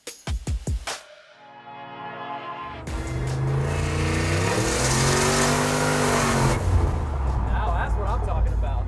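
Turbocharged 1964 Chevrolet Suburban engine revving hard, starting with a few sharp bursts and then building to a loud, sustained high-RPM roar. Speech is heard over the engine.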